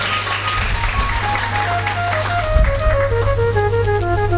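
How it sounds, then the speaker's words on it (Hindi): Listeners at a Hindu devotional storytelling gathering clap along over sustained melodic music and a low hum, the claps forming a soft, continuous patter beneath the tune. "ताली बजा दो, मेंढक बच गया बेचारा।"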